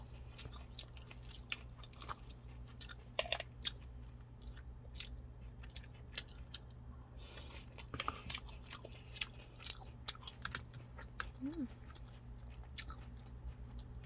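Someone eats a boxed beef bulgogi salad with sesame doenjang dressing, tofu and barley, with quiet close bites and crunchy chewing scattered across a low background hum.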